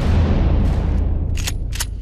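Gunshots fired behind police trainees during a training exercise: a dense rumbling boom followed by two sharp, loud cracks about a third of a second apart.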